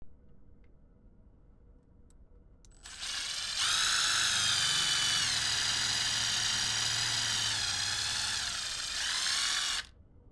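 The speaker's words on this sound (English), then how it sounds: "so I'm going to have to drill them" A power drill fitted with a hex head drill bit, first faint then revving up into a loud, steady whine that holds for about six seconds before cutting off sharply, with nobody talking.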